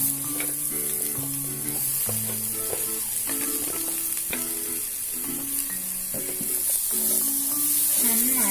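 Raw cherries are dropped into spiced oil for a Kerala cherry pickle and sizzle steadily up close, with stirring clatter throughout and a tonal hum running in the background.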